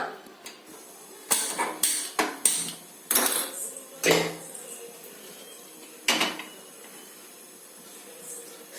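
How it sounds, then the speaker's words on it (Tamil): A pressure cooker is set onto a home kitchen stove to cook sambar rice, making a burst of close metallic clanks and knocks over a few seconds, followed by a quieter stretch with one more bump. "இப்போ ஸ்டவ் ஆன் பண்ணி குக்கர் வச்சிடலாம்"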